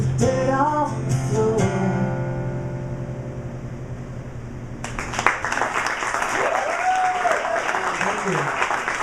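Audience applause for a performer swells in suddenly after a stretch of sustained music and talk, a dense, even wash of clapping that holds steady to the end.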